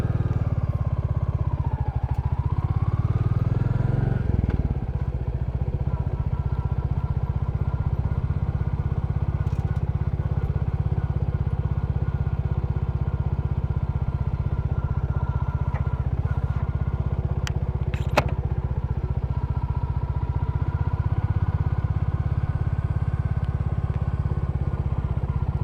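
A Royal Enfield Classic motorcycle rides off-road, its single-cylinder engine a steady low drone close to the mic, with a brief rev change early on and occasional clatter and crackle over the rough ground.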